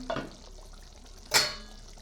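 A metal lid is lifted off a cooking pot of simmering pea and soybean curry, a short clink at the start and a sharper scraping clatter partway through, otherwise quiet.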